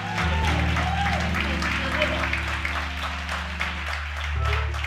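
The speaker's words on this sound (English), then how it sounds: "You should clap for that right there." A congregation at a prophetic church sermon claps steadily over a low sustained organ-like drone, the applause moderate and continuous throughout.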